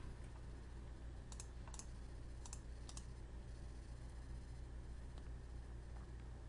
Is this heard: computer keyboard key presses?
yes